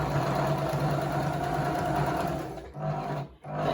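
A sewing machine backstitches over ribbons on a fidget quilt, a close, fast whirring hum that runs steadily and then stops and restarts in short bursts near the end.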